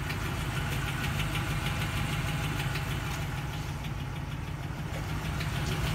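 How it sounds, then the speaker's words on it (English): Engine of a 2011 Ram 2500 Heavy Duty 4x4 pickup running steadily, with low rumbling exhaust and a fine ticking valve-train texture over a constant drone, close and unbroken throughout. "My phone does pick up the small engine noises, so like valve train and exhaust noise is like amplified on my phone."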